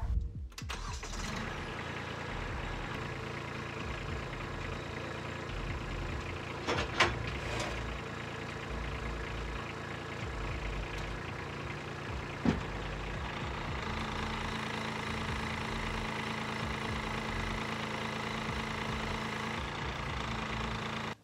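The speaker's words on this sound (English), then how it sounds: "I'm ready to fire the tractor back up and make sure I like its final format." A tractor engine cranks and catches, then settles into a steady mid-pitched idle that runs on continuously, close by and moderately loud, with a couple of brief knocks along the way.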